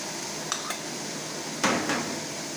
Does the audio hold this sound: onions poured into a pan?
yes